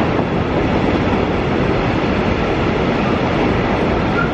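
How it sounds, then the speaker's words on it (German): A Rhein-Cargo class 185 electric locomotive hauls a VTG tank wagon freight train past, giving a steady, close, loud rolling rush of wheels on rail with no break. "Das ist die Rhein-Cargo 185, 585, wenn ich das richtig gelesen habe, mit diesem Vascosa VTG Tank"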